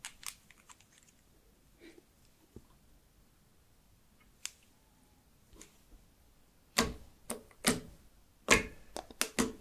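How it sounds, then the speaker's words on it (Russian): Crumbly mountain-type slime is handled and stirred, giving bursts of crisp clicking and crunching. The sounds are faint and sparse at first, then grow into loud, close clusters of crackles toward the end, with no talking. "Слайм кликает."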